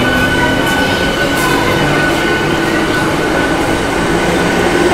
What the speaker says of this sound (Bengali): আর দেখো এই ট্রেনটা ছেড়ে দিয়েছে।